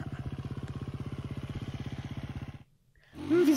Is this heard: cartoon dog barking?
no